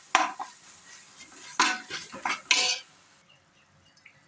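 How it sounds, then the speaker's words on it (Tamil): Tomato and ginger garlic paste being sautéed in oil for biryani-style rice, with a spoon scraping and clinking against the pan in a few close, uneven bursts before it quiets. "அது நல்லா எண்ணெயிலேயே வாசனை போகிற அளவுக்கு வதக்குங்க."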